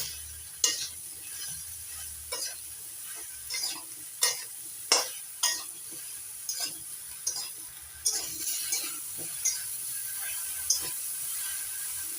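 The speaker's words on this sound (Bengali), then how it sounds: "এবার কচুগুলো একটু ভাজা ভাজা করে নেবো" Taro pieces frying in a pan with salt and turmeric, giving a soft steady sizzle broken by repeated scraping stirs and light utensil taps at an uneven pace. The sound is close and fairly quiet, with no talking.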